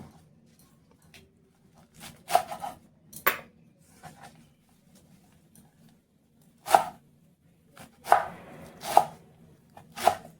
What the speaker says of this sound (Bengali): তো শাকগুলো আমি বেছে পরিষ্কার করে নিয়েছি, এবার এগুলো কেটে নেব।